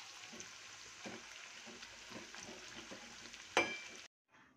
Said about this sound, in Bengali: এরকমভাবে তেলের সাথে এইভাবে ফুটবে।